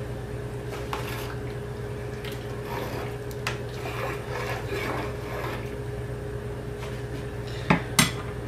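Borscht stirred in a pot, a ladle scraping and swishing against the metal under a constant low hum, with two sharp clanks near the end.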